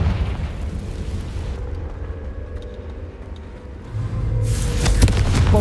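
A Confringo fire-spell explosion from Hogwarts Legacy erupts with a roaring, noisy burst, then settles into a low rumble before a second bright, crackling blast swells near the end.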